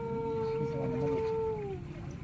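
A dog lets out a drawn-out, mournful howl at night that holds its pitch for over a second and then slides downward and fades, with faint ambient noise.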